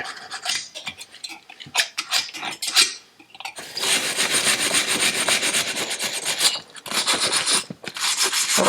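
Old gasket goo and black paint are scraped off a Bantam motorcycle engine, making close, loud, rough rasping strokes: choppy at first, then long continuous scraping runs with brief pauses.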